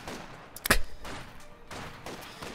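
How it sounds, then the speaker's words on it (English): Gunfire from SVT and Mosin Nagant rifles in a competitive video game match, a few sharp shots cracking out, one prominent close report followed by fainter scattered shots over a low background. "Grenadiers suffering under the heavy duress of these SVTs and Mosin Nagant rifles."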